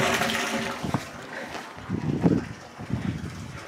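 Water draining during a septic inspection at a river house, a rushing, gurgling flow with wind buffeting the microphone and low background noise throughout.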